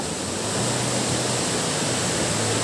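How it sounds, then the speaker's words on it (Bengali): Changey Falls near Kolakham in Kalimpong, a steady, dense rush of falling water that stays loud and unbroken from start to finish. "সাঙ্গে ওয়াটারফলসের জলটা এই নিচে পড়ছে এবং পড়ে এই পাশ দিয়ে এইখানে একটা ব্রিজ বানানো রয়েছে"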